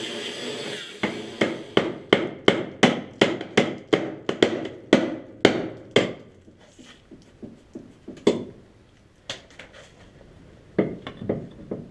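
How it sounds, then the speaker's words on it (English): Rusty bolts on a suspension mount being struck off: a rapid run of sharp, ringing metal hits with short echoing decay, a pause with scattered weaker blows, then a final quick burst of strikes. "it's so rusty, I have to cut the bolts off"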